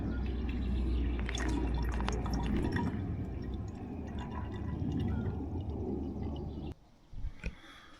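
Water dripping and trickling through a portable water filter, a steady close flow of drips that stops abruptly, leaving a few faint drops.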